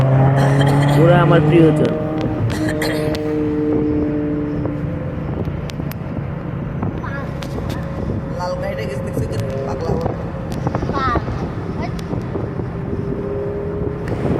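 A red car on a road, its engine and road noise running throughout with wind buffeting the microphone, while people talk over the sound and brief tonal sweeps of passing vehicles come and go.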